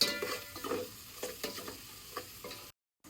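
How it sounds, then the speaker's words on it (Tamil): Ginger and garlic frying in a pan, stirred steadily until brown, with repeated scraping strokes over a continuous sizzle before a sudden cut to silence near the end. "இப்போ நம்ம வந்து இஞ்சி பூண்டு பிரவுன் கலர் வர வரைக்கும் நம்ம நல்லா கிண்ட போறோங்க."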